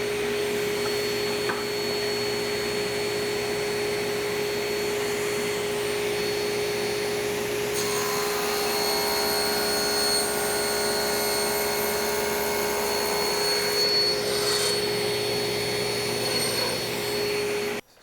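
A power saw runs continuously while cutting coffee table leg blanks to length against a stop block on the fence, a loud steady whine with a brief shift partway through and no talking.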